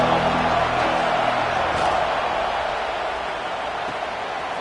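Broadband roar of a stadium crowd at a USC vs Penn State college football game, a steady dense wash of distant cheering that holds level throughout, easing only slightly toward the end.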